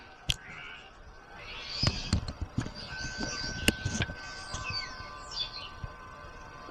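Birds chirp and tweet intermittently with sharp clicks and taps, sounding moderately close over a faint background hum.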